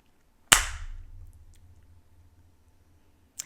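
One sharp, close hand clap rings out alone in a quiet room, followed by a brief decay and silence.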